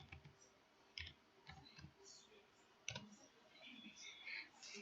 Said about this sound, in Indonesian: Kita ketik sales di sini.